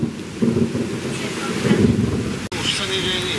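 Storm wind gusts buffet the microphone during a thunderstorm in Prievidza, Slovakia, a loud continuous roaring rush with swelling gusts and a brief dropout, with faint voices underneath.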